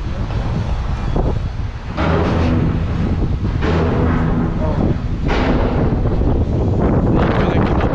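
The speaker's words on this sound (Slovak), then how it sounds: "Fúha, to už sa rozfúklo trošku." Strong wind buffets the microphone outdoors at an abandoned submarine base, heavy rumbling gusts with sharp bursts at roughly one-and-a-half-second intervals, continuous throughout.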